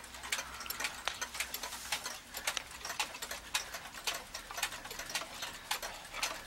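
An East German cuckoo clock ticks in a steady, even rhythm, close and fairly quiet, alone without talk.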